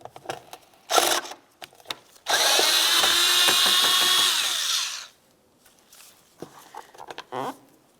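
A power driver backs a Phillips head screw out of the door trim tray of a 2005-2010 Dodge Dakota, a steady high whirring lasting about three seconds, with handling clicks and knocks before and after.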